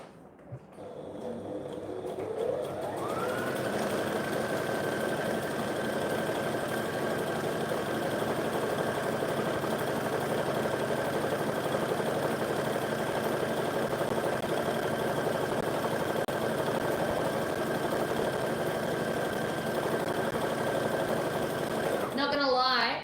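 A sewing machine runs continuously while stitching a birthday tutu, spinning up to a steady, even mechanical whir that holds close and loud for about twenty seconds before stopping.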